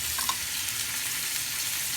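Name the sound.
green beans frying in butter and olive oil in a pan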